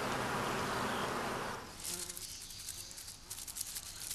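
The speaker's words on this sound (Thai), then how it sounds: "ทางเข้ารวงผึ้งถึงกับแออัดติดขัดทีเดียวครับ" Worker honeybees buzz at a crowded hive entrance, a dense, steady drone that shifts midway into a thinner, fluttering hum with faint higher ticks.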